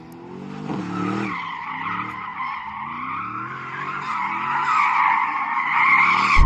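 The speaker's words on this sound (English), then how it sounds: "We need to warm our tyres." Aston Martin DBX707 warming its tyres with a sustained high tyre squeal over a low engine rumble, loud and close, building toward the end.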